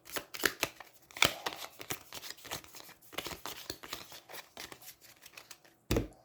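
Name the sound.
shuffling a deck of game cards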